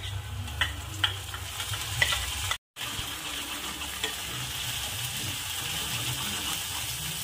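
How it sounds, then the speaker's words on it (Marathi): Ground masala paste is stirred and sautéed with browned fried onions in a pan, a continuous close sizzle with soft spoon scrapes and a brief silent dropout partway through. "छान मिक्स करायचं आहे, याला पण छान परतून घ्यायचं आहे वाटणला"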